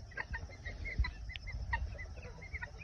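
Guineafowl ranging freely outdoors, giving repeated short clucking calls at a fairly busy pace over steady low ambient rumble, the birds sounding moderately close.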